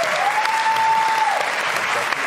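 Studio audience on a Brazilian late-night TV talk show bursts into steady, dense applause that holds throughout, with a faint whistle-like tone partway and a little voice beneath.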